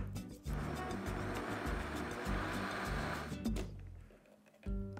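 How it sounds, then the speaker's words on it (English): A blender whirs steadily through a batch of chicharrones salsa verde with cilantro, a loud continuous grinding drone that runs for several seconds before cutting off near the end. "Now we can blend."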